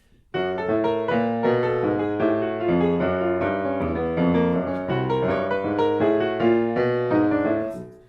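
Solo piano playing a bluesy phrase with a wrong, clashing, muddled bass line under the right-hand chords, continuous and fairly close.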